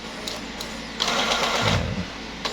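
Brother ink tank printer mechanism running, a mechanical whir and rattle that swells in the middle with a low thump, steady and close throughout.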